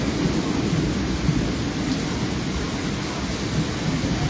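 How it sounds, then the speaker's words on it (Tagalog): Heavy rain pours in a dense, unbroken roar with a deep low rumble of thunder underneath, loud and steady throughout, outside a small shop with no voices. "Oh, lakas ng ulan."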